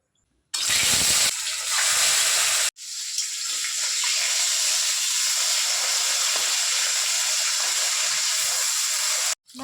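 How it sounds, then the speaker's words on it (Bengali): Sarputi fish, cut and coated in salt and turmeric, frying in hot oil: a loud steady hiss and sizzle that starts abruptly, breaks off for a moment, then resumes and runs on unbroken. "প্রথমে মাছগুলো ভেজে নেব।"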